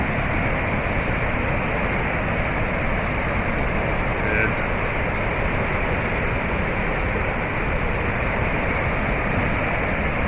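A waterfall roars as a constant, broad rushing wash of water, loud and close, unbroken for the whole stretch with no distinct pauses.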